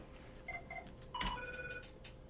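A telephone rings faintly in a quiet room, a few short electronic tones in quick succession followed by a longer steady tone, with a soft click partway through.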